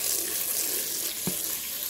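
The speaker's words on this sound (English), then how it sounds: "And then I just put a little bit of water." Water runs steadily from a tap into a pot of pork marinade for adobo, a continuous close splashing stream with one brief thud partway through.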